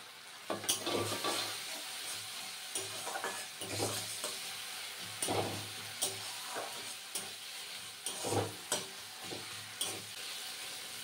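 Mustard and poppy seeds sizzle and crackle in a hot pan with melted tomato while a utensil scrapes and stirs them in irregular bursts.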